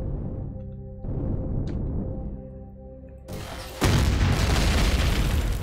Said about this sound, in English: So let's use the rockets and let's shoot it over there.